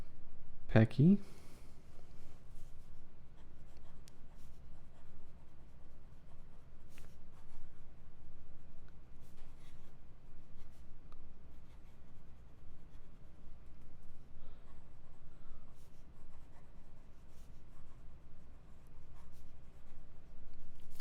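A Signum De Divina Proportione Doric fountain pen is writing fast on paper, giving a faint, continuous scratchy rustle throughout, opened by a brief louder clatter near the start.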